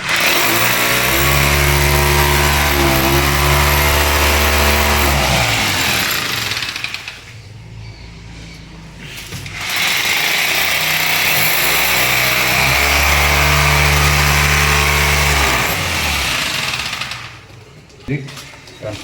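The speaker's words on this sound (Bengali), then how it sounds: "এই হচ্ছে ডিল দিয়ে আমার ফুটো করতে হবে।" A power drill boring a hole in a wall to hang a corner wash basin, grinding loudly and close in two long bursts separated by a short pause.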